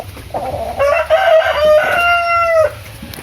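Heritage chickens, a rooster crowing loudly and close in one long drawn-out call over steady clucking and soft farmyard background.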